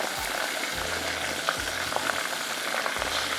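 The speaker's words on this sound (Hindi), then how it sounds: "बस आपने ऑयल के अंदर डालना है, इसको फ्राई करना है" Chicken nuggets deep-frying in oil, a steady close sizzle and crackle with a few soft bubbling thumps, no voices.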